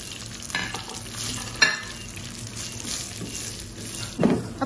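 Crushed vermicelli frying in desi ghee over a low flame, a steady soft sizzle with stirring scrapes throughout and a couple of louder clinks near the start and end.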